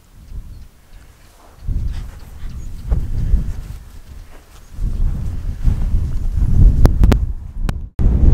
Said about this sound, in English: As you can probably hear, it's very windy